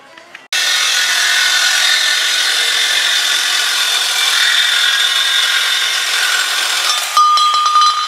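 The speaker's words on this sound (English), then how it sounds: "Now we're going to trim the bash bar." A power tool trims a bash bar during off-road bash prep, a loud continuous grinding whine that starts abruptly and runs steadily before shifting pitch near the end, with no talking.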